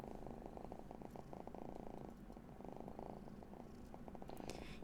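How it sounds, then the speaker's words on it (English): A cat purrs loudly and steadily up close, a continuous rumbling throb with no voices over it. "Then those are loud purrs."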